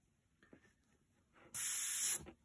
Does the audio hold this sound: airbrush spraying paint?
yes